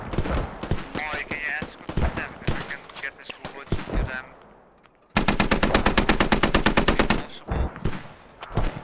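A rapid, evenly spaced machine gun burst lasting about two seconds rips out loud and close in the Squad video game, after a stretch of busy battlefield noise with voices.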